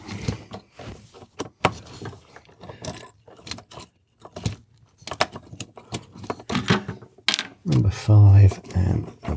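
Screws are removed from the fuse panel of a Porsche 911 G Body, producing close, sharp metallic clicks and small clatters in an irregular rhythm, with a louder rattle near the end.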